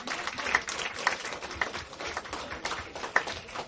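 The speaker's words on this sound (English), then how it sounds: "Clap it up right now" An audience claps at a live event, a fairly close patter of hands with crowd noise and some louder individual claps.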